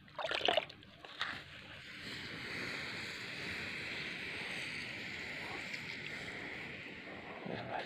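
Water poured over a heap of freshly burnt black rice husk charcoal, giving a steady broad hiss and spatter that runs continuously after a few brief knocks at the start, moderately close with no talk.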